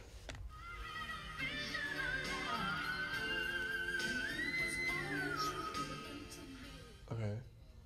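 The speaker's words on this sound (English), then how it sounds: "she is one of the only vocalists able to manipulate the texture of her whistle notes" A singer sings high, sliding whistle-register notes that rise and fall across a long held phrase, heard faintly against soft background sound, with a brief voice near the end.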